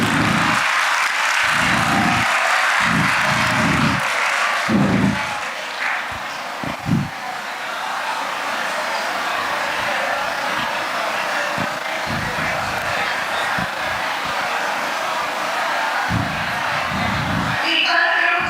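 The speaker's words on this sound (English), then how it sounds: "Please give her a big round of applause." A conference audience applauds after a presentation, a broad, fairly loud wash of clapping that runs throughout, with a few low thumps and a short burst of talk over it.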